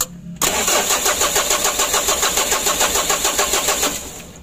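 A Mitsubishi L300 diesel engine from 2017 starts abruptly after a brief pause and settles into a loud, close, rhythmic clattering run with a regular throbbing pulse before easing off at the end.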